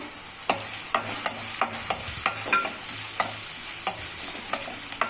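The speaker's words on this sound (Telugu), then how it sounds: "అందులోనికే క్యారెట్స్ వేసుకొని క్యారెట్స్ కూడా ఒక 10 మినిట్స్ అలా ఫ్రై చేసేసుకోవాలి." Carrots and onions frying together in a pan for a paneer keema rice, with a steady sizzle broken by regular spatula scrapes and clicks against the pan, close and clear, no voices.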